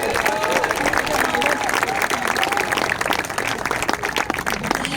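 Church congregation applauding loudly during a Spanish-language service in Chimbote, Peru, dense sustained clapping from a large crowd with voices and cheering mixed in throughout.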